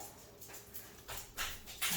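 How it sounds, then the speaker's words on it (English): A dog gnaws on a bone indoors, making a series of faint, irregular crunching and scraping bursts that grow slightly louder toward the end. "might hear my dog with her bone"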